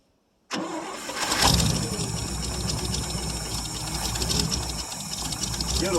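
A 1959 International B120 4x4 truck engine cold starts after sitting for years, cranking briefly before catching and settling into a loud, rough, knocking idle. The sound is close, with faint voices partly underneath.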